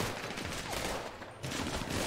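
Rapid, sustained gunfire from a GTA V battle royale match rattles in quick bursts with a brief pause midway, moderately loud and dense with no talk over it.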